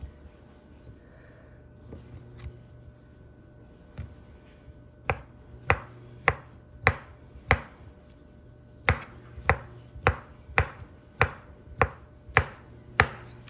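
A kitchen knife slicing breakfast burrito ingredients on a cutting board, a series of crisp close chops that start sparse and then fall into an even, steady rhythm.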